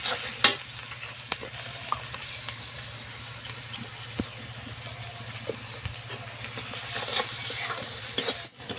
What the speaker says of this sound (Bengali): খুব সুন্দরভাবে আমি সব মশলাগুলো কষে নিয়েছি